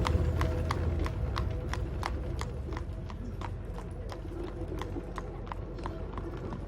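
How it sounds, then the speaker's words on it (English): A horse pulls a buggy at a steady trot, its hooves clip-clopping in an even rhythm over a low rolling rumble of wheels, close and continuous without speech. "Our young folks, when they get 16, we get them a horse and a buggy, and that's the way they travel."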